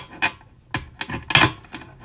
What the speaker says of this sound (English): you're just supposed to do like a normal card shuffle here